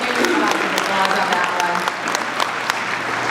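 Applause from an audience at a political speech about modernizing IT systems and voter registration, a steady wash of clapping sustained throughout with a voice faintly present.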